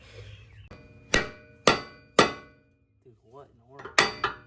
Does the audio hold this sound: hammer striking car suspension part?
yes